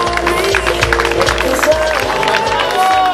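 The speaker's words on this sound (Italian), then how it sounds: "il nostro supporto, il nostro applauso, il nostro calorosissimo applauso per questa seconda piazza" A crowd at the Cardacrucca 2019 race finish applauds steadily for a second-place finisher, with dense clapping throughout and a loud announcer talking over it.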